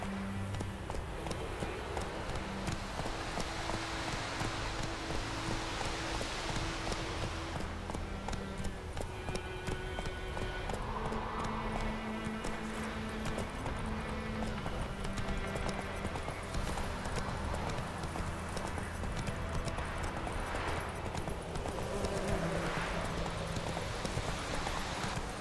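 Roach the horse galloping in The Witcher 3, a steady rapid clip-clop of hooves running on and on under a dense game soundscape with music, close and continuous.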